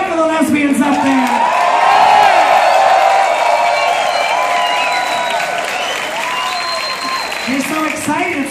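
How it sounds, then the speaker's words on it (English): A nightclub crowd at a drag comedy show applauds and cheers loudly, with whoops and shouts rising over dense clapping before easing off, while a voice carries over the noise. "Clap for the lesbians up there."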